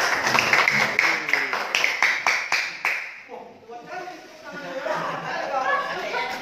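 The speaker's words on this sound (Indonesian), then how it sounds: "ayo beri tepuk tangan" Classroom applause during a peer-teaching session: a short round of clapping for about three seconds, then students chatter and murmur loudly.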